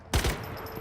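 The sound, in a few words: single gunshots in video game Star Citizen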